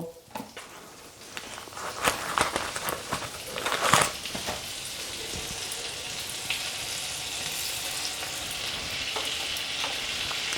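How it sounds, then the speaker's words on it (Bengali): Butter sizzling in a kadai after paneer has been fried in it, with crunchy stirring and scraping in the first seconds that settle into a steady, close hiss, no voices. "ওই কড়াইতে যেটুকু বাটার ছিল তার মধ্যে আমি আরও 2 টেবিল চামচ পরিমাণ বাটার দেব"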